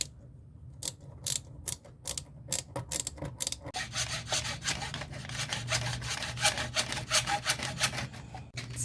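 Wood being cut by hand for a truck bed camper cabinet, with sparse rasping strokes at first, then quicker continuous back-and-forth sawing, close and fairly quiet.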